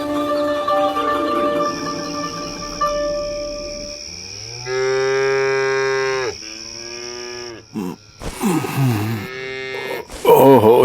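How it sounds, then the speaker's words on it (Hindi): Cows and buffaloes moo at night, long loud drawn-out lowing calls rising and falling, several in succession with overlapping voices toward the end. "ये तो गाय भैंसों की रांभने की आवाजें हैं"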